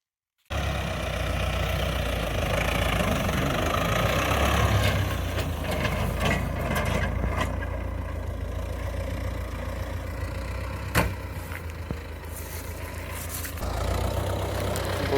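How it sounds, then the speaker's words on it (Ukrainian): A T-4 tractor engine rumbles steadily at a low pitch during a potato harvest, with faint rattles and knocks over the continuous drone. "Батько вже поїхав трактором."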